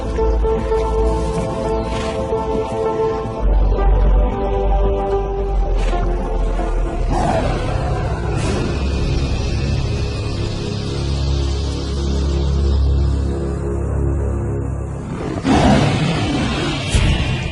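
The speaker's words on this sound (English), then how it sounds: "This roar from afar is a sound that spells trouble." A lion roars from a distance in the wild, a few deep, drawn-out calls rising and fading over a steady low rumble, with no voices.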